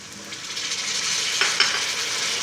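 Chopped tomatoes hit hot oil with ground and crushed red chilli spices in a pan for aloo matar gajar, giving a steady close frying sizzle with a couple of brief stirring clinks.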